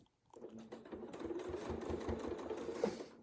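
A sewing machine stitches a continuous quilting motif in a steady, rapid run of needle strokes that starts after a brief silence and holds close and clear.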